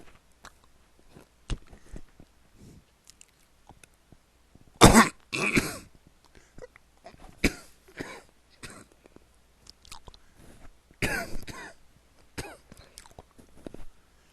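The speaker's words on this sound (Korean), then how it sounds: "기침이 심하네요." Repeated coughs and throat clearing from one nearby person, in several short bursts spread over a quiet indoor background with long pauses between them.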